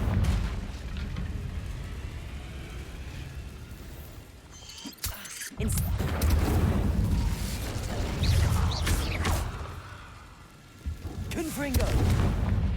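Confringo blasting spells in Hogwarts Legacy set off several booming explosions, with loud rumbling bursts, a sudden sharp crack midway, and a busy mix of game effects and crackle around them.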